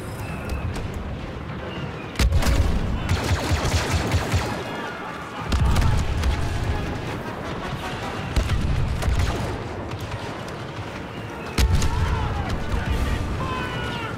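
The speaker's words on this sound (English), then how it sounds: "Stay here and lay down cover fire." Cover fire in a Star Wars Battlefront 2 battle: dense, continuous bursts of blaster and gun fire, with heavy booming impacts repeating every few seconds across a loud, chaotic soundscape, and a voice briefly under the din.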